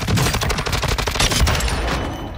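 Rapid, loud light machine gun fire in Call of Duty Warzone, a dense continuous burst of shots lasting a couple of seconds with no talk.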